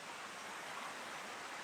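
A clear river in a park in Papan, Malaysia, rushes steadily, a continuous broadband wash of flowing water, even and unbroken, with no voices.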